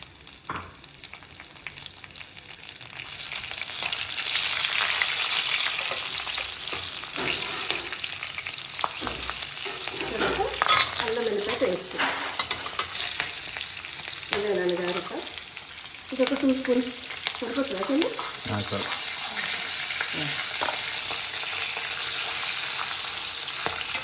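Cinnamon and green and red chilies crackle in hot oil as a tempering, a loud steady sizzle with bursts of spattering and occasional stirring clatter, with faint voices now and then.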